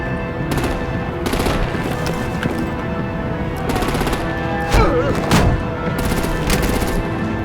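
Artillery and rapid gunfire in a Batman video game, dense bursts of machine-gun shots in repeated volleys over a loud, busy battle din, with voices speaking in between.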